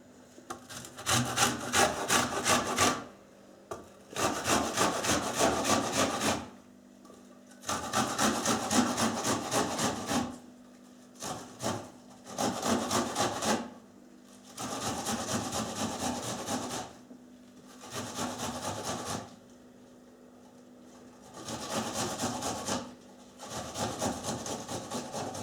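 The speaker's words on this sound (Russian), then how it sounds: "Лук мы будем измельчать на крупной терке" Onion is grated on a coarse grater in about eight bursts of quick rasping back-and-forth strokes, each lasting a few seconds and separated by short pauses.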